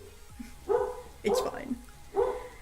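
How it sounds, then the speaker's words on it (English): Dogs bark three times in short, muffled bursts at a moderate distance from a home streaming setup, while a person speaks briefly. "If you hear my dogs barking"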